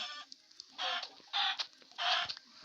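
Chickens clucking in the Minecraft video game, three short bursts of bright, stuttering clucks spaced about half a second apart, fairly near and clear with no talk over them.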